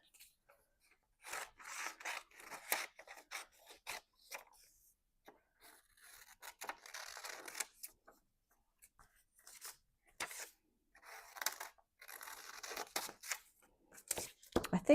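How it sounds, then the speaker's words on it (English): Scissors fussy cut small images from foam stamp paper in a run of quiet, close snips and rasping rubs that come in bursts with short pauses between them. "Let's fussy cut some of these out."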